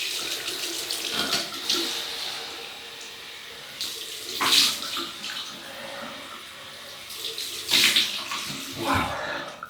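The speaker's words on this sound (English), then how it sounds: "Right, cold water rinse." Cold tap water runs steadily into a basin for a rinse during a wet shave with a Gillette Super Speed razor, a broad rushing hiss swelling louder in a few splashing bursts, close by with no talking.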